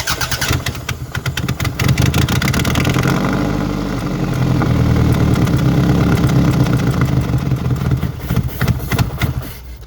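Engine of a 2005 Toyota RAV4 with hard-starting and smoking trouble, cranking and catching, then running at a rough, loud idle with revs swelling and falling, close up with no talk.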